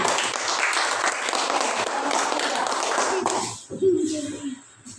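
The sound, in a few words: applause, clapping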